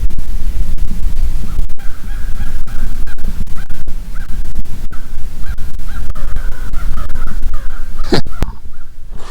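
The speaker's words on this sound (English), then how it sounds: "Crows are getting out of here." Crows caw loudly and repeatedly along a river, harsh calls in quick series over wind buffeting, with a clatter near the end.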